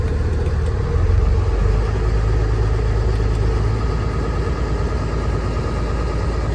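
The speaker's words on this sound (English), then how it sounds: "I'm going to turn on the fast idle here." Car engine running at fast idle during an oil change, a loud, steady low rumble that holds a constant drone throughout with a slight swell near the start and no talking.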